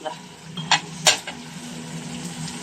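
Kitchen sounds with a steady low sizzle of tempering in a pan for a pumpkin dish, broken by a few sharp metallic clinks and stirring scrapes.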